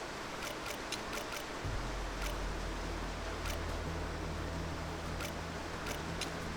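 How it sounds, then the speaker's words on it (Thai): Steady wash of video game rain noise with a low rumble underneath, punctuated by brief sharp ticks scattered throughout; no voices. Motorcycle racing game Ride 2. "ตอนนี้เสียงฝนเริ่มดังแล้ว"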